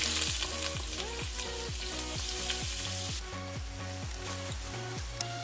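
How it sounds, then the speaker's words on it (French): Carrots sizzling and frying in hot olive oil in a wok for stir-fried vegetable noodles, a loud continuous crackle with rhythmic stirring scrapes, alone without talk. "Donc là nos carottes sont en train de bouillir en fait dans ma poêle ou dans mon wok"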